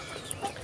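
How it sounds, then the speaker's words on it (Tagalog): A Rhode Island Red and native cross hen gives a brief, soft cluck, faint and close, lasting under a second. "Ito yung inahin ko na may lahing RIR at saka native"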